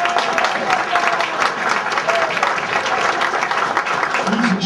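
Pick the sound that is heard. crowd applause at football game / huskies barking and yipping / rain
crowd applause at football game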